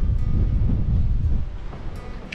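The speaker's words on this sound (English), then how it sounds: "That was a massive gust of wind." A strong 25 to 30 knot Caribbean gust buffets a GoPro microphone, a loud low rumbling roar that eases off partway through, with no speech.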